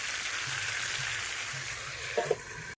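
Chicken sautéing in a pan, a continuous soft frying hiss and sizzle with a brief clink of stirring near the end.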